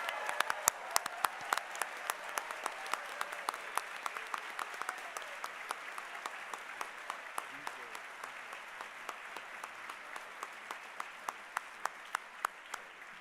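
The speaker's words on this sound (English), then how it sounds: "from the audience, loud, thunderous applause for the scholars in mathematics." Audience applause at a scholars' awards banquet fills the room as a steady, even wash of many hands clapping, heard faint and distant throughout.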